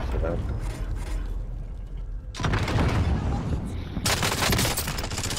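Call of Duty gunfire with a P90 and shotguns during a match, dense bursts of loud rapid shots in two heavy stretches over constant game noise and mechanical clatter, with players talking throughout.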